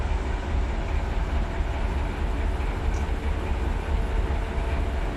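A coal train rolls through Searles Yard in Run 8 Train Simulator, giving a steady, dense rumble with a faint clatter of wheels that holds at an even level throughout, with no voices.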